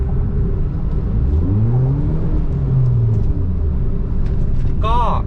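A tuned Honda Jazz GK with a stage 8 ECU tune and a performance exhaust revs up and settles back, the engine note rising and falling as a steady close rumble while someone talks over it.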